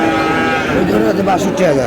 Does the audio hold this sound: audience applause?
no